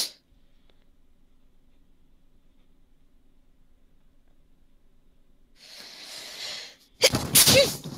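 A single sharp sneeze bursts out near the end, loud and close, preceded by a softer breathy rustle in an otherwise quiet room.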